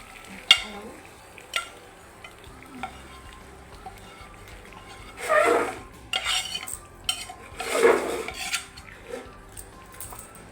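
Tempering spices fry for vegetable khichuri, with crackling sizzle bursts and metal ladle clinks and scrapes against the pot, close by, rising in two loud surges amid quieter tapping.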